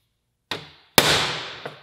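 A hammer strikes a center punch into metal twice, a lighter tap followed by a loud sharp ringing blow that decays slowly, then a faint third knock.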